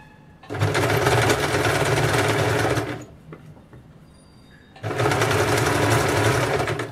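A sewing machine stitches along a blouse edge in two loud, steady bursts of rapid whirring, split by a pause of about two seconds with faint clicks.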